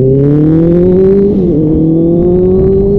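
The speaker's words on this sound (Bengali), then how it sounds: "আওয়াজটাই সুন্দর লাগছে ভাই সুপার বাইকের এই মিষ্টি আওয়াজ" A superbike engine revs in steady rising drones, then dips and climbs again, loud and close without any talk.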